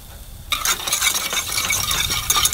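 Fresh garlic hits a hot pan with sun-dried tomatoes and sizzles loudly and close, with a steady crackling fry and occasional stirring scrapes. No one speaks.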